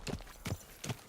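Horse hooves clip-clopping in a video game, three clear, evenly spaced hoof strikes, close and moderately quiet.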